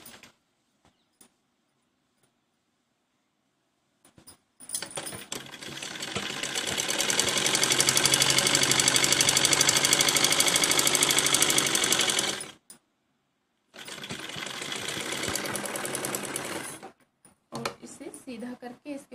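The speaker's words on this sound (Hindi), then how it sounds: "अब देखिए सबसे पहले हम इसके दोनों आसन सिलेंगे।" A sewing machine stitches the seams of men's shorts in two sustained close runs, a loud rapid mechanical whirr that stops briefly between bursts, with a few quiet clicks before and after.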